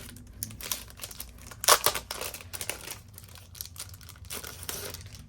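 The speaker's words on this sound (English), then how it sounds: "For my cover, I will be using this plastic cover from Cloth and Paper." A plastic planner cover from Cloth and Paper is handled close up, giving irregular crinkling and crackling with a sharper burst near the middle and softer rustles around it, with no voices.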